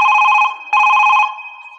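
Telephone ringing loudly up close in two electronic bursts, the tone stopping briefly in between and then fading out after the second burst.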